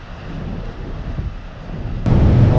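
Strong wind blowing across an evening ferry deck, a steady low roaring rumble with buffeting against the microphone that grows louder and heavier near the end.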